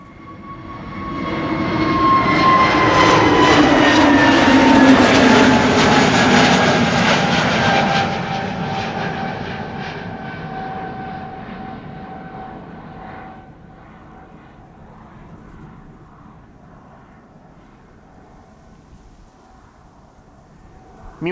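A British Airways Airbus A320 jet departs Amsterdam Schiphol's Polderbaan runway in showery weather, its engine roar building loud and near, holding a steady whine, then fading gradually into the distance, with no talk.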